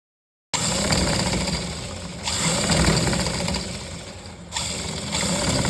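Sewing machine stitching loops onto a kurti, running in steady continuous bursts with brief pauses between them, close and fairly loud with a whirring motor drone.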